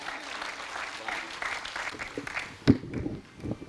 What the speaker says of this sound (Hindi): यहां से वहां तक एक बार खुलकर तालियां बजाइएगा